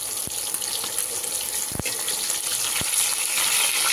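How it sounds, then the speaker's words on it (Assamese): Fish frying in a pan, a continuous close sizzle with a few soft knocks of utensils against the pan. "আনফালে এয়া মাছ ফ্ৰাই কৰি আছোঁ"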